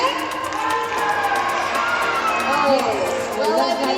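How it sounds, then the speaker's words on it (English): A crowd of children and adults at a Dubai safari event cheers and shouts loudly in a steady, dense roar, with mixed whoops and chatter throughout. "Can you all cheer for Michael as loud as you can?"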